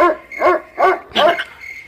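A dog barks and yips four times in quick succession, loud and close, with short whimper-like tones between the barks.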